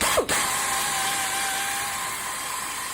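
A small power polisher whirs steadily at close range as it buffs compound into the body of a DIY Strat-style guitar kit, a sustained high-pitched motor tone with a brief dip near the start and no talking.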